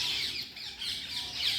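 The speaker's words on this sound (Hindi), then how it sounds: "पक्षियों की आवाज़ आ रही है ना, चिड़ियों की आवाज़ आ रही है।" Birds calling among trees in Braj, Vrindavan, a short burst of bright, repeated squawking chirps, fairly faint and mostly alone against a soft background.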